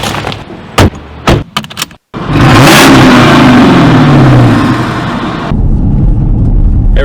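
A car door thuds a few times, then an engine fires up and revs loudly, the mid-pitched roar rising and falling close by before settling to a steady run.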